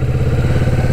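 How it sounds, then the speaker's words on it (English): A Kawasaki Vulcan S motorcycle engine is held at raised revs while the rider slips the clutch and holds the rear brake, giving a steady, close, throbbing drone with no voices. "Now I increase the revs"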